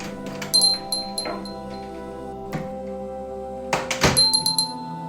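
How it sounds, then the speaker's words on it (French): A front door in a cottage swings open, with a heavy thunk and latch clinks, then a second louder clatter, over a steady tonal music bed. "vous entendez la porte d'entrée qui s'ouvre."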